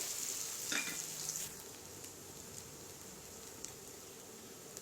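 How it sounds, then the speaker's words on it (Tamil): Onion and curry leaves sautéing in sesame oil for prawn thokku, a quiet, even hiss of frying with a couple of faint utensil touches early on, fairly soft and steady, no voices. "கொஞ்சமாக கருவேப்பிலை போட்டுட்டு வெங்காயம் சேர்த்து வதக்கிடலாம்."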